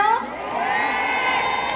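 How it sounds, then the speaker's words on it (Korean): Festival crowd at a concert cheering and whooping, a dense sustained roar of many voices with shouts rising over it, loud and continuous throughout. "그럼 여러분의 박수 상당을 해볼까요?"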